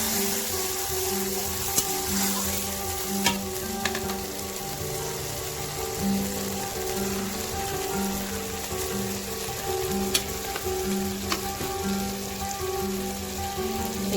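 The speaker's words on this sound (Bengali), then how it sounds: "সরষে ও কাঁচা লঙ্কা বাটা, দিয়ে ভালো করে নেড়ে নেব।" Mustard and green chili paste frying in hot oil in a pan with black cumin, a steady dense sizzle with occasional scrapes of stirring, close and loud, no voices.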